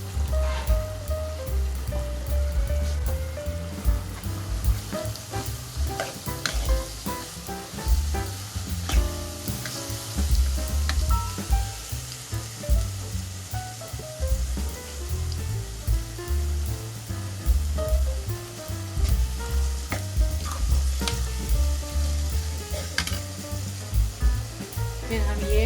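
Tomatoes frying in the pot for a chicken stew give a steady, close, loud sizzle with stirring scrapes throughout, and no talk.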